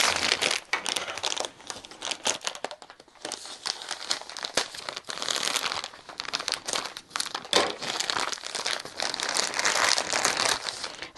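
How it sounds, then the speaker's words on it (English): Crinkly plastic packaging being pulled open around quilting fabric, a continuous close rustling and crackling with uneven bursts of crumpling throughout. "Sorry for all the crinkly stuff."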